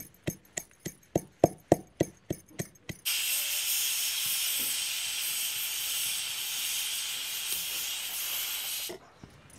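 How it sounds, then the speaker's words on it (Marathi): A kitchen pressure cooker venting, several sharp rhythmic knocks giving way to a loud, sustained hiss of escaping steam that runs for several seconds and then stops abruptly. "4 शिट्ट्या झालेल्या आहेत"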